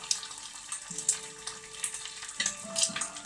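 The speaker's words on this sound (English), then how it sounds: "While that fried egg is doing its thing" An egg fries in a pan beside an onion and garlic mixture, giving a soft, steady crackling sizzle with scattered small pops at low volume.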